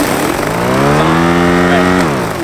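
An Ego electric lawn mower runs with a loud, tonal motor whine whose pitch wavers and then drops off toward the end, heard up close with no talking.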